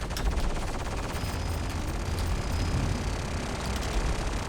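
Ballistic cannons firing from spaceships in a Star Citizen player-versus-player dogfight between a medium and a light fighter, a dense, unbroken rattle of rapid gunfire with a heavy low rumble throughout.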